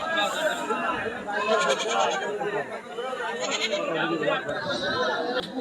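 A large Ram goat bleats a few times amid a busy goat market on a rainy day, its calls mixed with steady crowd chatter and people talking nearby.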